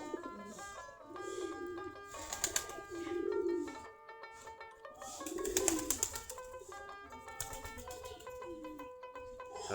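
Native Giribaj pigeons in their coop cooing in soft, rolling bursts, several birds overlapping at close range, with faint chirps and rustles between the calls.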